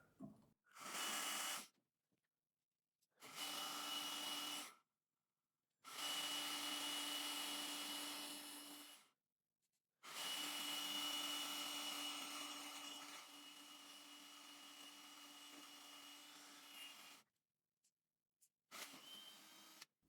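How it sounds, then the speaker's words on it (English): A drill driving a cobalt bit through thick metal on a snowblower chute project, running in several loud bursts of whining, grinding sound separated by short pauses, close and without talk. "I don't think that unibit is quite quality enough to get through that thick of metal, so use a cobalt bit here."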